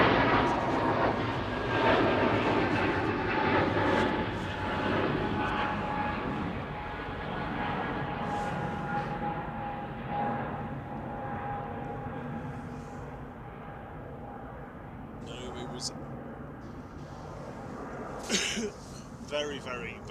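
An EasyJet jet airliner departs Manchester Airport for Krakow, a broad engine roar that stays fairly steady and slowly eases, with someone talking over it throughout.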